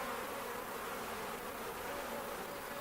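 Honey bees buzzing in an opened hive holding a full box of brood, a dense, steady drone that stays close and even throughout, with no talking.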